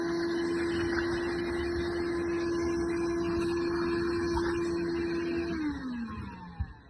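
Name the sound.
vacuum cleaner hoovering out the stove's glass channel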